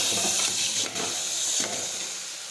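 Stirring sounds in a pot of sizzling sponge gourd with salt and sugar, with a steady hiss and soft scraping strokes, no voices.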